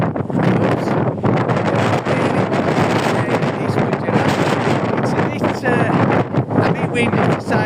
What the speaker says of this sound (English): we are in the grips of one of our windy days